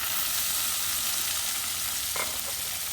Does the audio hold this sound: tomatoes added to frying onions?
yes